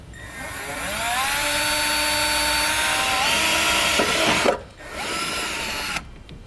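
A power drill whines steadily and loudly, pitch shifting slightly as it bores a pilot hole through insulation and metal backing on a 2009 Jeep Liberty, then briefly stops and restarts near the end.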